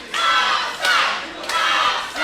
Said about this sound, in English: A wall of sound coming off the ProSouth faithful.